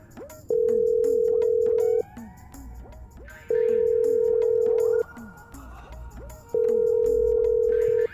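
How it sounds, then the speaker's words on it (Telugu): A telephone ringback tone sounds three times, long steady buzzes separated by pauses, heard through the line. "రింగ్ అవుతున్నది"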